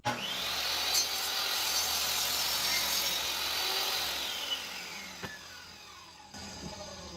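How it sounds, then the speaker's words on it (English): A table saw cuts through a piece of wood in a workshop, a loud continuous whining rasp that holds steady for several seconds before spinning down, with a few small knocks toward the end. "I can do that actually on the table saw."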